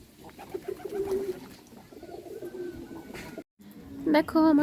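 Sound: pigeons cooing

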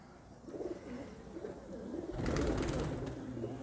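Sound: Kalmuhe breed pigeons cooing

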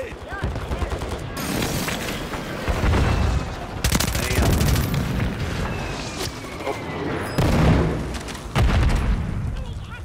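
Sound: stun grenade explosion and gunfire in Call of Duty video game

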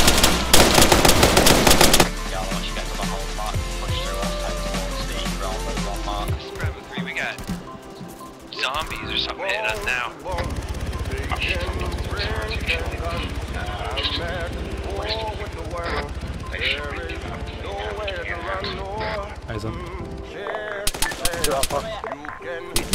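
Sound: gunfire in ARMA 3 video game

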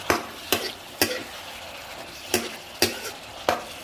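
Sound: stir-frying chicken with ginger in a pan, adding green onion

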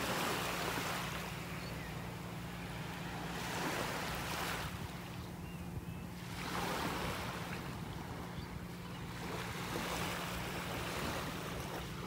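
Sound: tide water flowing out of Wiggins Pass, Naples beach

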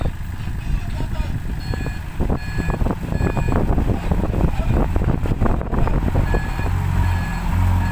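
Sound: truck reversing voice alert and beeps

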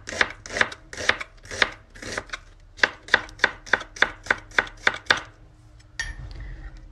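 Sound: knife slicing onion into half rings

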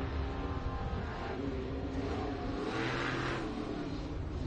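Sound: racing truck driving past

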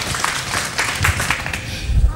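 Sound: children's applause

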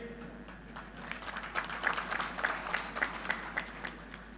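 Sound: crowd applauding at a political rally

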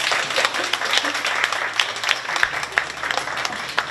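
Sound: applause from an audience

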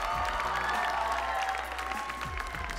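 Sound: audience applause for Steven

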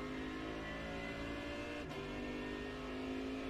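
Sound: GT3 race car accelerating at Sebring in the iRacing video game

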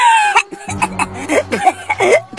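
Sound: person coughing

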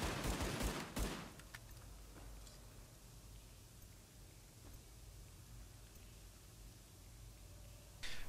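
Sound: gunfire from the video game Tom Clancy's The Division

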